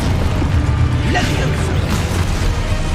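A Confringo fire-blast spell cast in the Hogwarts Legacy video game, a booming burst with a popping crackle set against dense, continuous game effects and background rumble.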